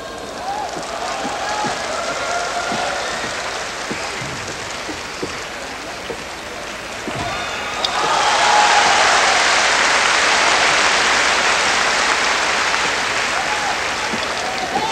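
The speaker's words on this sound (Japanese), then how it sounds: "拍手です。" An audience at the 1988 Seoul Olympics gymnastics competition bursts into loud, sustained applause after a pommel horse routine, swelling midway and continuing under a commentator's voice.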